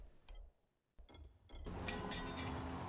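Weapons dropped in the zombie game Dying Light, a few short clinking, mechanical knocks followed by a louder burst of rattling clatter, quiet and close with no talk.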